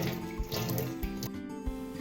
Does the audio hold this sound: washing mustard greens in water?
yes